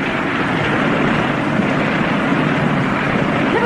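Loud, continuous roar of a landing airplane's engines with broadband wind-like rush, steady throughout and close, no speech.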